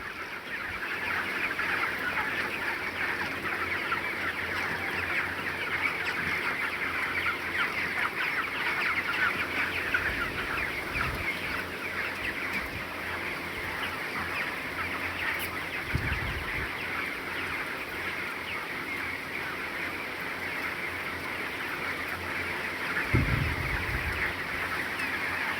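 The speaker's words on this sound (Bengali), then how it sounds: "অনেক গরম, মুরগি হাঁপাইতেছে, কীভাবে দেখুন, গরমের কারণে মুরগি হাঁপাইতেছে।" Broiler chickens pant in a hot farm shed, with a dense, steady murmur of clucking from the flock, a few louder calls, and no talk.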